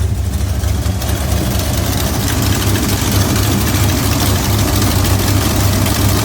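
A 1971 Dodge Demon's engine idles steadily, a deep rumbling drone with a constant low throb and no talking over it.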